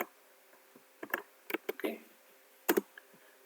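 Computer keyboard typing while entering code IDs, a few scattered clicks and short bursts of keystrokes, close and fairly quiet, with no talking.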